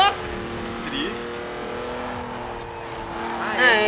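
A rear-wheel-drive sports car in the Forza Horizon 4 racing game drives and drifts, its engine holding a steady, droning tone that rises into a sharper whine near the end.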